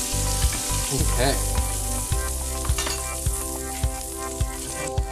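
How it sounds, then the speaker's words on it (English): Short ribs searing in a pot keep up a loud, dense sizzle, while regular low knocks and thumps come through a humming background, and a voice speaks a single brief word. "we've got that perfect sear on our short ribs"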